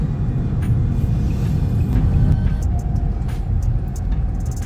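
A car cruises along National Highway 10, a loud, continuous low road rumble and engine drone from inside the cabin, with faint passing clicks and no speech.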